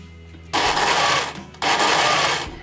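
A sewing machine stitches a dress seam in two steady, loud runs, each lasting about a second, with a short pause between them and no talking.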